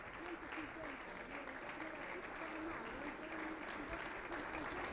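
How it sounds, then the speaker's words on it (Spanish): Sustained applause from a Pentecostal church congregation, steady and dense across the whole stretch, with a voice talking over it. "Aplauso para el Señor Jesús."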